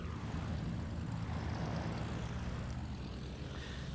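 A Cessna 180 taildragger propeller plane takes off in a heavy touring class STOL competition, its piston engine and propeller roaring at full power, loud and steady throughout with a broad droning buzz.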